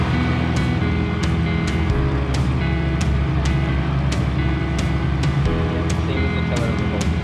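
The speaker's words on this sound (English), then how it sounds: "You want to get used to like listening to the engine." A dinghy's outboard motor drones continuously, loud and close, with a low rumble and occasional sharp ticks over the top.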